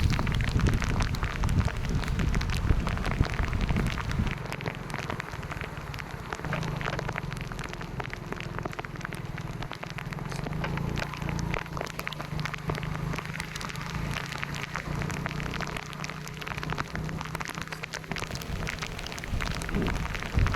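Heavy southwest monsoon rain pours down in a steady, dense roar on surfaces, loud and continuous throughout with no voices.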